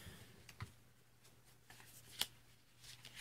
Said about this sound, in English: Uh, cut the deck.